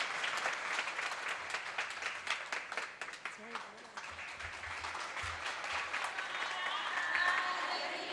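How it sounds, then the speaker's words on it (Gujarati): An audience at a religious discourse gathering applauds with a dense, sustained patter of many hands that swells and eases over several seconds, with voices mixed in underneath. "તો તમે બધા તાળીઓથી એમનું અભિવાદન."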